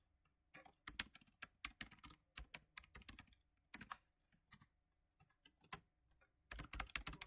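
Someone types JavaScript code on a computer keyboard, with quiet close-up key clicks in irregular bursts and short flurries separated by brief pauses, alone without speech.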